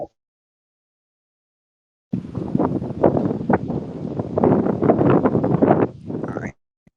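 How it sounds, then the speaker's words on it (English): Wind buffets a microphone outdoors at a waterfront space park, starting abruptly after two seconds of silence and gusting loudly in uneven rumbling bursts for about four seconds before cutting off. "You guys are probably hearing a wind"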